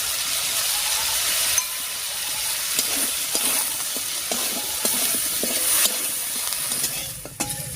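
Prawns fry over tempering spices in a pan, a loud, continuous close sizzle with repeated scraping stirs and clinks of the spatula throughout.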